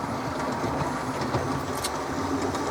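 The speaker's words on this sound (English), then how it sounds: "I didn't think I'd ever have trains running like this" Model railway trains run on a layout track with a steady rolling rumble and soft clicking wheel noise that stays even and continuous throughout, with no voices.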